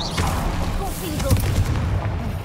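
Blasting curse explosion in Hogwarts Legacy, a loud booming blast with rumbling low end and crackling debris, sustained over a couple of seconds with a voice faintly underneath.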